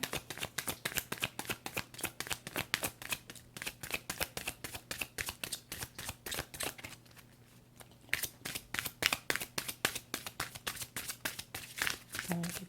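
Tarot guidance cards are shuffled in a steady, rapid riffling rhythm, close and crisp, pausing briefly near the middle before resuming.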